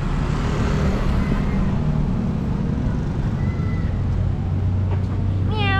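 A cat meows near the end, a short rising-falling cry over loud, steady roadway traffic noise and rumbling engines.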